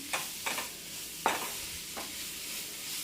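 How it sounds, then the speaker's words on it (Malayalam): Spatula stirring bean leaf thoran in a pan, four or five soft scraping strokes spaced apart over a faint background sizzle. "ഒന്ന് ഇളക്കി യോജിപ്പിച്ചിട്ട് നമുക്കൊന്ന് അടച്ചു കൊടുക്കാം."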